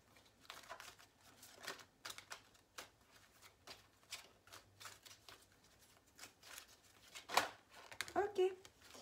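Tarot cards are shuffled in soft, close bursts of papery riffling and flicking, faint and irregular, with some brief crinkling near the end.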